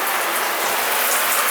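Steady rush of water pouring into a running toilet during a repair, a continuous broadband hiss held at even loudness throughout with no voices.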